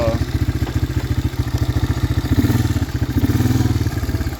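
A 1985 Honda Big Red 250ES three-wheeler engine runs steadily close by, its rapid even putter loud and continuous with a slight rise in revs partway through, no voices.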